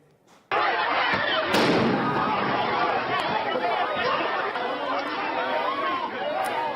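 Demonstrators at a St. Louis protest set off firecrackers, sharp bangs and thuds popping through dense crowd chatter and shouting after a quiet start.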